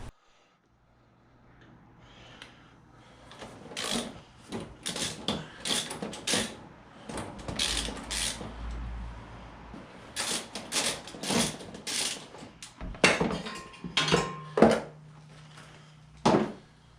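An open-end wrench works an axle bolt on a Can-Am Outlander ATV, giving a series of close metallic ratcheting clicks and clanks in irregular bursts.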